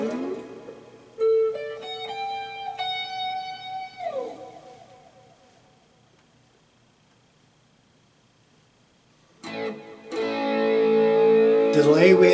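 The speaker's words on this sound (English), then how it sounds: "We've got the AC boost with some overdrive." Electric guitar played through a Positive Grid Spark 40 practice amp on its AC boost with overdrive: a few sustained, slightly gritty notes and a chord that fade to silence, then a louder distorted strummed passage kicks in.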